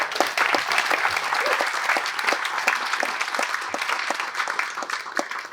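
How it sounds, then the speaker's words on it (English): An audience at an evening event honoring Rosa Parks gives a round of applause, loud and sustained, with clearly separate sharp claps. "Let's give them a round of applause."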